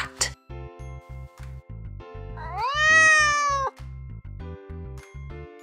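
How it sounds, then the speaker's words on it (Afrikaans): A single drawn-out cat meow, clear and close, rises over a steady rhythmic pulsing music bed with light chimes, with no talk. "Net so, 'n kat miauw."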